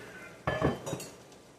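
Short clatter of a bowl and a pan being picked up and set down in a home kitchen, a couple of brief knocks and clinks close by, then quiet.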